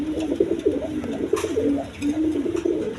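Pigeons coo softly and repeatedly in a low, rolling rhythm, with a pair of Denis pigeons, three-striped with red, close by and no voices over them.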